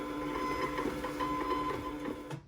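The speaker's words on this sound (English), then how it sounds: "Really love this printer. This is the Arc Scan" An Arkscan label printer runs through a print job, giving a steady close mechanical whir with a faint high tone that continues evenly, then cuts off abruptly at the end.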